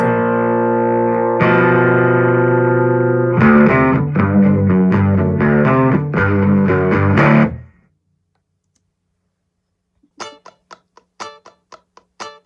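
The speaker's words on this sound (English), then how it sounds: "Here's the Gretsch Malcolm Young soloed." A Gretsch Malcolm Young electric guitar plays solo with a distorted tone, starting with sustained ringing chords and moving into choppy rhythmic strums. After a pause, a few faint muted string scratches follow.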